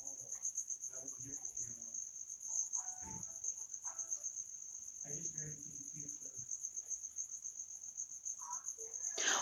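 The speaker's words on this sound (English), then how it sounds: "I need to call somebody because I'm going crazy with these crickets here." Crickets chirp indoors in a steady, shrill, unbroken trill that runs loud the whole time, with faint muffled voices and rustling underneath.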